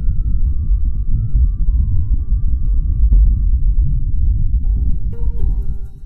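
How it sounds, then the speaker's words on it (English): Wind on Mars at up to 15 miles per hour, picked up by a seismometer and amplified: a steady, loud low rumble with a throbbing texture, continuous throughout and faintly brightening near the end. "That noise is created by wind blowing at up to 15 miles per hour"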